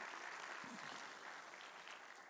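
A church congregation applauds during a Sunday morning service, a steady wash of many hands clapping at low level that carries on without a break and fades slightly toward the end.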